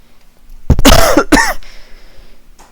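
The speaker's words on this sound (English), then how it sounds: "if you notice I'm coughing a lot" Two harsh coughs in quick succession, loud and close, followed by a brief quiet rasp of breath.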